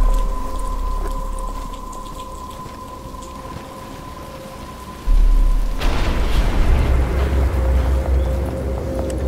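Rain pours in Batman: Arkham Asylum, starting as a quieter wash under a steady hum, then swelling suddenly into a louder, dense downpour with a low rumble.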